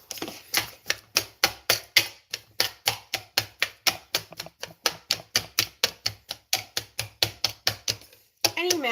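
Banana being mashed with peanut butter, about thirty sharp, regular knocking strokes against a bowl in a steady close rhythm, with a brief pause near the end.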